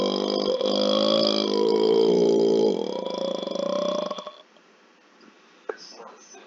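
One long, loud, throaty burp is produced by swallowing air. It rumbles close up for about four seconds, then fades into near quiet with a small click afterward.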